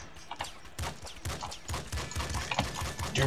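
Grenade launcher blasts from the game Nuclear Throne, a quick run of sharp, clustered pops and bursts repeating in an uneven rhythm at moderate level.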